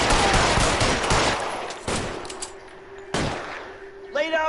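Video game gunfire from LA Noire, a dense burst of shots filling the first two seconds, then two more sharp bangs spaced apart, with a tonal musical cue rising at the end.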